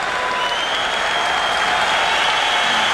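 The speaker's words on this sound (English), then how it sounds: "And the applause for the Canadiens for killing off." Steady applause from a large hockey arena crowd in Montreal, a dense wash of clapping and cheering that holds at full volume throughout.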